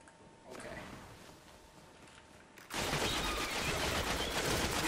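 Rapid, dense gunfire in the video game Destiny, a muffled burst early that gives way to a louder sustained stream of automatic shots.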